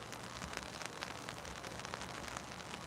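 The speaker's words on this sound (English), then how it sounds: "can you guys hear the rain hitting the umbrella by chance?" Rain patters on an umbrella outdoors at a protest at the Washington State Capitol, a faint, continuous ticking of drops with no talking.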